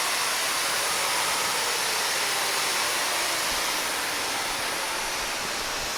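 A new SMTCL vertical machining center runs a demo program with its axes moving, producing a steady, loud, airy hiss and whir that continues evenly throughout.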